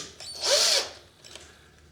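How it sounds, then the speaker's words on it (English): Hand drill boring a pilot hole while making a kerosene lantern, heard as one close, bright whirring burst that swells and fades within about a second, with no talk. "I like to drill me a pilot hole before I drill the final hole"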